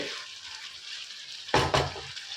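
Chicken kosha frying over low to medium heat in a pan, a steady soft sizzle with two louder scraping stirs near the end.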